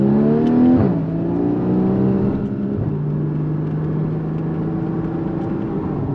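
A Porsche Cayman GTS engine revs under manual shifting, its note climbing then dropping sharply at an early upshift before settling into a steady, throaty drone at lower revs, heard from inside the car.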